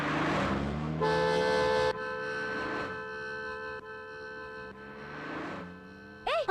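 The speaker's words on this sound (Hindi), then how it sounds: "गाड़ी आ रही है, हॉर्न बजाओ।" Loud sustained car horn blasts, several long honks in a row, close by with a steady engine hum underneath.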